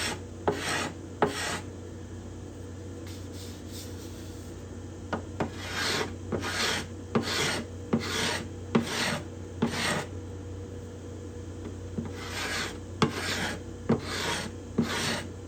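Careful scraping of bindings and purflings on a cedar guitar top, repeated short rasping strokes in small clusters separated by brief pauses, close-up and alone.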